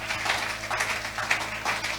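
A church congregation applauding the Lord during a sermon, giving a dense, continuous clapping that fills the room at moderate loudness.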